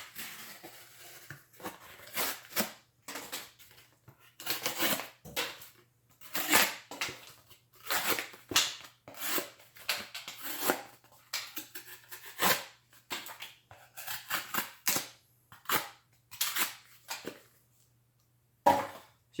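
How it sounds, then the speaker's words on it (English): Steel Will Modus folding knife cutting off staples, a string of close, sharp snipping and crunching bursts with brief gaps between them. "let's just cut those staples off"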